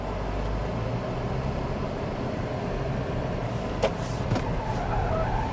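A Mitsubishi XFORCE HEV drives on a wet test track, with a steady low engine and road rumble inside the cabin and a couple of brief sharper tyre noises near the end.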